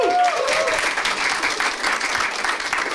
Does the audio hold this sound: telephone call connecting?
no